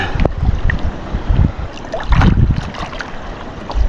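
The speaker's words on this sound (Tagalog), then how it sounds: "Wow, malalaki ang alon." Large waves slap and rock a small wooden fishing boat during night net fishing, giving a loud, rolling wash of water with heavy thuds and gusty wind rumble close to the microphone.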